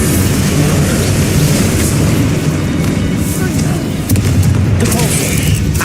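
An Incendio fire spell cast in the video game Hogwarts Legacy, heard as a loud, dense roaring blast that rumbles on without a break for several seconds, with brief bursts flaring through it.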